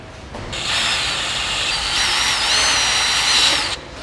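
A power drill whirs steadily at high pitch for a few seconds, its tone rising and wavering as the bit bores through a Volkswagen Golf R MK7.5 rear bumper, then stops.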